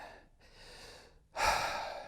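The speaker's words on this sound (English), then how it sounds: "Deep breathing." Deep, controlled breathing during a Shotokan karate kick drill: a long steady exhale, a brief pause, then a louder sharp breath, close and alone with no talk.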